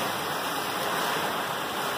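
Strong typhoon wind from Ulysses in Angeles City, Pampanga, heard as a steady, loud broadband roar and rush with no gusty breaks, like a constant blast of air through an open outdoor space.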